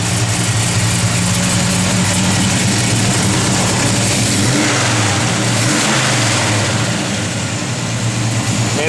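A 1967 Chevrolet Chevelle SS with a Lunati camshaft runs loud and close, its engine rumbling with a lopey idle and rising in short revs, with no talking over it.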